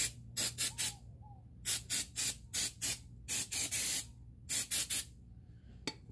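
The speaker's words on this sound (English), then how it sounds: "Take some brake cleaner to them. I'm going to hit it with a little brake clean." Brake cleaner sprayed onto GM brake rotors in a garage, a series of sharp hissing aerosol bursts, some short and some longer, in an irregular rhythm, close and clear with quiet gaps between.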